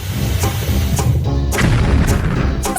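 Booming cartoon-style explosion effect in a kitchen cooking scene, several loud dense bursts and thumps repeating across the clip with no talking.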